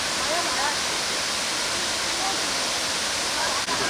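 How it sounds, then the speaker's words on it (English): Main cascade of Kuang Si Waterfall roars as a loud, steady, broadband wash of falling water, continuous and unbroken throughout, with no talk over it. "I'll just get a final shot of the main waterfall there"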